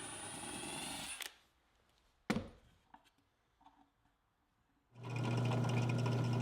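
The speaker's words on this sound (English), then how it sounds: "I'll drill from the inside of the drawer to mark the drawer pull with the drill bit" Drill boring out from the inside of a wooden drawer to mark where the drawer pull goes, whirring loudly at the start, then stopping for a quiet gap with a few knocks before spinning up again.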